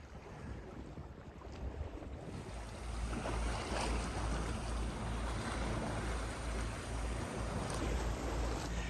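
Sailboat cruising under sail on open water, a broad rushing wash of water and wind buffeting the microphone, steady and fairly loud throughout with no voices.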